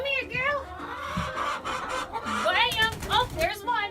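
Chickens on a farm cluck steadily and nearby, with repeated rising squawks, and a person talks over the birds at times.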